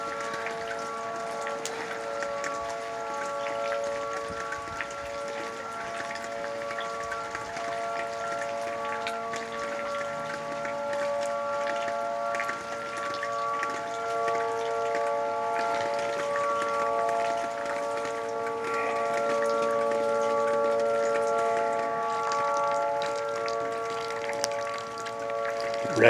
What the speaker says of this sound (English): Pretty rainy.